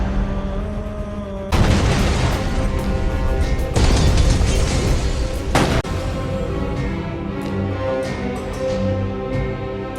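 Heavy, booming crashes in an action film as police break through a building's roof and topple a wall: a sudden loud blast, then more rumbling impacts, debris and a sharp bang over a continuous dramatic soundtrack.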